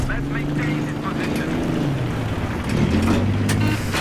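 Helicopter in the video game Battlefield 3, a steady loud engine drone with low tonal rotor hum throughout, mixed with game noise while players talk over it.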